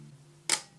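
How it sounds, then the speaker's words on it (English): A single sharp mechanical shutter click from a DeJur D1 camera at 1/100 second, crisp and close, following a faint steady hum. "the beautiful sound of the shutter at 1/25th of a second"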